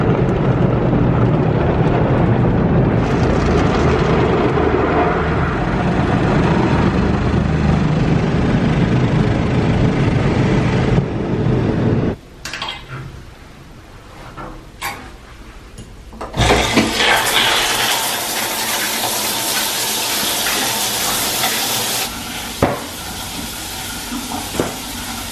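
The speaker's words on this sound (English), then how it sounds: "They're giving out free car washes, so I had to go get my car wash for free." An automatic car wash runs with a loud, continuous rush of spraying water and hissing, interrupted by a quieter stretch with knocks and clunks, then the heavy spray returns.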